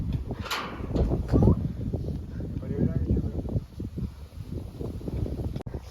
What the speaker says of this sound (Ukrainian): Сьогодні вітряна погода.